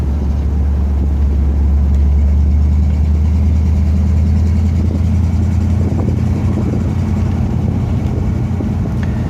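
A 1959 Pontiac Bonneville's rebuilt tri-power engine idles steadily and close by, a deep, even rumble with a slight lope, with no voices over it.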